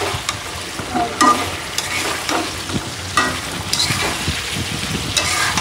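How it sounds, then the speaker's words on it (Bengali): Spices and garlic paste sautéing in a pan for a rohu fish curry, with steady sizzling and repeated scraping stir strokes, close and fairly loud, no talking. "দেখেন এখানে কিন্তু কষানো হচ্ছে ভালো করে"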